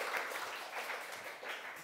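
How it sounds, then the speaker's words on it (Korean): Faint clapping from an audience in a classroom-style mock exam session, a brief, soft, steady patter of applause. "네, 박수."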